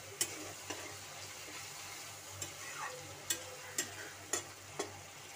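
Masala made with tomato and three green chillies fries quietly in a pan with soft sizzling, broken by repeated sharp clicks and scrapes of stirring spaced through the clip.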